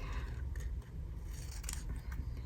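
Scissors snip through paper while cutting out a fresco fragment, a steady run of crisp, close cuts over low background hum with no talking.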